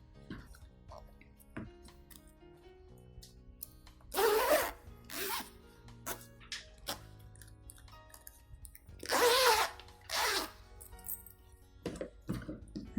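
A metal zipper pull is slid onto the zipper tape of a fabric bag, producing several loud rasping zips close by, separated by quieter handling rustles and clicks.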